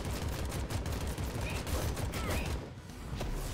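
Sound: Tommy gun firing in a video game

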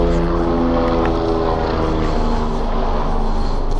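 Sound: helicopters flying overhead

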